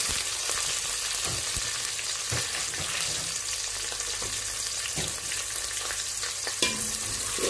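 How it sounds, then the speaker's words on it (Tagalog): Onion fries in a pan while being stirred for chicken pininyahang manok, a steady close sizzle punctuated by regular knocks and scrapes of a spatula against the pan. "Mix din natin siya until golden brown."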